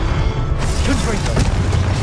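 A Confringo fire spell blast from Hogwarts Legacy: a loud, dense burst with booming low rumble and crackling debris running through most of the clip, with a shouted voice over it.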